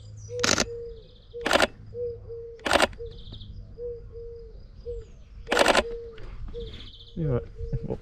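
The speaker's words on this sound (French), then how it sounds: "Et j'ai un merle juste en face là." A blackbird gives short, repeated, quiet call notes outdoors. Several sharp camera shutter clicks break in at intervals, with faint higher chirps in between.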